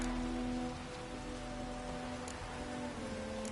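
Steady rain patters across a field in The Witcher 3, a soft continuous hiss of falling drops with a low constant hum beneath it and no voices.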